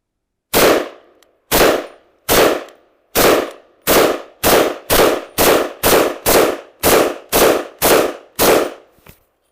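Czechoslovak Vz.58 rifle firing during test shooting, thirteen sharp, loud semi-automatic shots, spaced out at first, then coming in a quicker steady rhythm, each with a short ringing tail.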